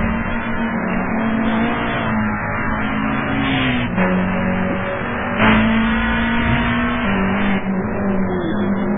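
Race cars on a racetrack accelerate loudly, with a strong, continuous engine whine that rises and shifts pitch through gear changes, and several sharper surges as cars rush past close by.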